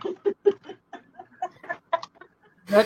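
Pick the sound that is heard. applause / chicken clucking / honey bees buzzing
chicken clucking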